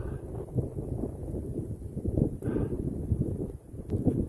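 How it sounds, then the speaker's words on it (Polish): Strong winter wind on the Elbląg Upland drives a small wind turbine, giving a steady, rough rush of gusting air with low rumbling buffeting and faint whooshing surges. "wiatr coraz silniejszy wiatrak pięknie zaczyna się obracać"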